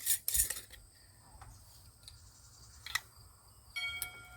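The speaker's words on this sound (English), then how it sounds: "Add my lids." Lids set onto glass jars of pickles give a few soft, light clinks and clicks, sparse and quiet, with faint handling noise between them.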